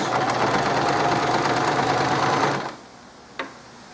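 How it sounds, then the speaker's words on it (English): A sewing machine runs a zigzag stitch on a fabric tote bag: a steady, loud mechanical whir for over two seconds, then it stops, leaving quiet room tone broken by one brief click. "I'm going to just do a zigzag stitch."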